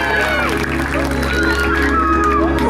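Party guests applaud and cheer in a dense crowd at a 15th-birthday celebration with a marriage proposal, a steady wash of clapping under voices and music throughout.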